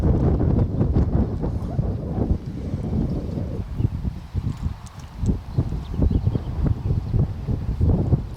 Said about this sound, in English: did we know it was going to be this windy here?